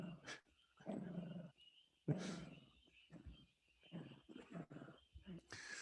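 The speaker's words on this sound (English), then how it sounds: "these are my dogs too" Dogs indoors during a quiet chakra meditation give a few faint, short barks and growls, close but low in level, with soft room noise between them and no clear speech.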